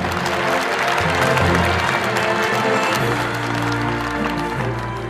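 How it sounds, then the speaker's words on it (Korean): Sustained applause from a large audience at a formal ceremony launching a national advisory council, steady and full throughout with a low background hum beneath the clapping. "이해찬 수석 부의장님께 다시 한번 박수 부탁드립니다"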